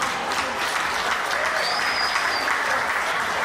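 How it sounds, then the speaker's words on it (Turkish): Wedding audience clapping together at a celebration in Istanbul, a dense steady burst of applause lasting several seconds with a faint whistle partway through. "alkış var mı?"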